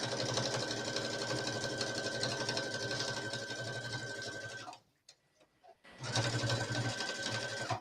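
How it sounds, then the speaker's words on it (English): A sewing machine edge stitching the button band of a skirt with white thread, running in a fast, steady whir of stitches close by, pausing briefly before starting again. "I'm edge stitching the other side of the button band now"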